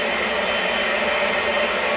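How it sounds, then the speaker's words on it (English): A new vacuum cleaner runs as a steady, loud, close whooshing drone with no pauses and no talking. "You want to watch a new vacuum cleaner?"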